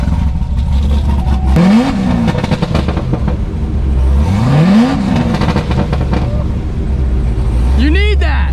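A ZR1 car engine fires up with a loud start, then revs sharply several times, each rise and fall distinct and close by, with voices talking around it.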